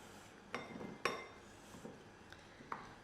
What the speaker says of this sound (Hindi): अब इसको हम एक बर्तन में ट्रांसफ़र कर देंगे।